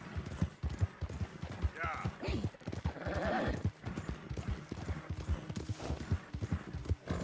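A horse gallops in Red Dead Redemption 2, rapid rhythmic hoofbeats running throughout with a brief whinny, while someone talks over it.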